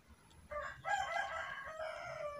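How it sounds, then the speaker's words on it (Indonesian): A rooster crows nearby, one long drawn-out cock-a-doodle-doo lasting about two seconds, clear over quiet background. "Teman-teman dengar suara ayam kokok kan?"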